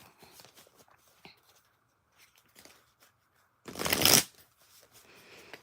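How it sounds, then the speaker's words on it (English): Tarot cards shuffled by hand, soft intermittent riffles and taps followed by one loud crisp bridge-style shuffle burst, close and mostly alone. "Just trying to get these shuffled a little bit."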